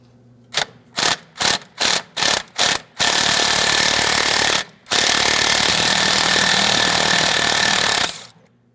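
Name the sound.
removing 14mm bolt from front strut, Toyota Matrix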